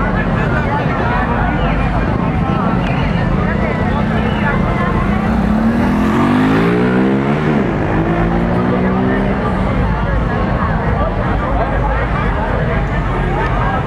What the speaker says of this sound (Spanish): Ahí van los carros